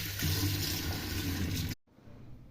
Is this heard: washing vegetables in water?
yes